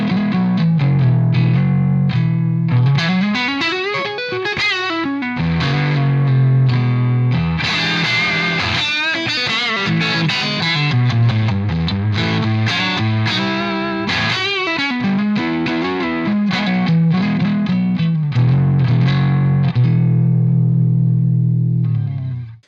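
Electric guitar played through a PRS David Grissom amp: distorted chorded riffs and bending lead phrases with chorus-like shimmer, loud and continuous, ending abruptly.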